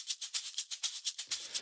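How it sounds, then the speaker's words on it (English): A shaker sample for a house groove rattles alone in a steady, even rhythm of about eight soft, hissy strokes per second, bright and close, with a slight low rumble entering near the end. "And we got a shaker"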